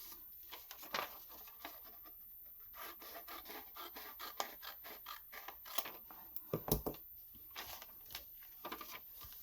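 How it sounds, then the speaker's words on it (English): Scissors snipping paper while making an envelope, a series of quiet close crisp cuts and rustles in an irregular rhythm against a hushed room. "So I'm just going to cut them off a little bit."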